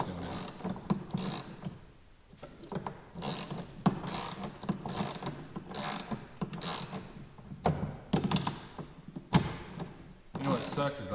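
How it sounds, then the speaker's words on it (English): Ratchet wrench clicking steadily in a shop as something is tightened, a quick run of close, repeated ratcheting clicks with small pauses and occasional knocks. Faint talk is heard beneath it. "I'm gonna go get a ratchet with a little more leverage."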